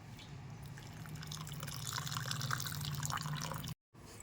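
Water runs and drips steadily as fresh chhena is strained and rinsed for paneer, a continuous close wet trickle that cuts off briefly near the end.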